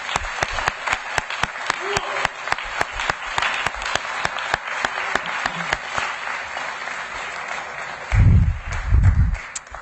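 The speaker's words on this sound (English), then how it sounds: "Let's give them a round of applause." An audience at a school board meeting applauds a junior ROTC Air Force drill team, steady dense clapping throughout with a few louder individual claps, and low thumps near the end.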